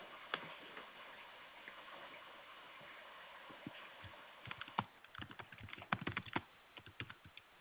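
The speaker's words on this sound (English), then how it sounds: "I think we can still hear you typing there, Elise, as well." Someone types on a computer keyboard during an online webinar. Faint, irregular key clicks come in loose bursts that grow denser and sharper toward the end, with no talking.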